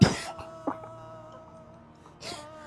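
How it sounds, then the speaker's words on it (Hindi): Three coughs come close by, a harsh burst at the start, a short lighter one soon after and another strong cough near the end, separated by quiet stretches over a soft steady background tone. "खांसी नहीं आएगी, पानी पीजिए"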